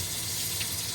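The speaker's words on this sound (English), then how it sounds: "And use some hot water, rinse that guy off." Running hot water pours steadily from a tap over a cast iron pan, a soft continuous gushing with faint splashing, fairly quiet and unbroken for the whole moment.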